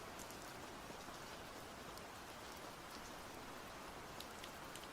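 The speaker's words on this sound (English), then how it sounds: "some soothing rain sounds for those that are still awake" Steady soft rain falls on a surface, a gentle even hiss with scattered drop ticks, continuous and calm with no voices.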